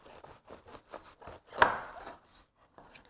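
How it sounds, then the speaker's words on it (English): A kitchen knife cuts a decent-sized raw cabbage in half on a cutting board, a single firm crunching chop that rises out of faint earlier knife taps and trails off quickly. "Then what I do is I cut it in half again."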